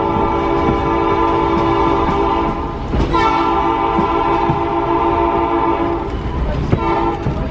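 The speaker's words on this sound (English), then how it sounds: "There's the whistle." A Hobo Railroad train horn sounds in long sustained tones over the rumble of the moving train in Lincoln, New Hampshire, with a few sharp clanks along the way.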